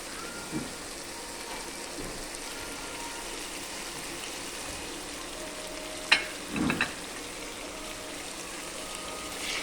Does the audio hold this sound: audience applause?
no